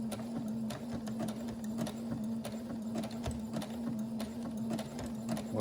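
Sewing machine stitching over the same spot while repairing old underwear: a fast, even mechanical clatter of needle strokes over a steady motor hum, close and moderately quiet throughout.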